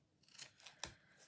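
Scissors snip a few quick, quiet cuts while card making, soft crisp strokes in a short burst.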